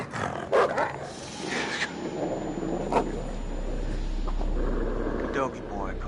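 A dog in the horror video game Until Dawn makes gruff barking and growling noises amid in-game ambience, with a player talking over it.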